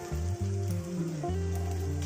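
Spring onion, garlic and ginger fry in a pan, a soft steady sizzle with light crackles, heard close and alone.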